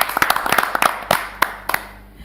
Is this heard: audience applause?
yes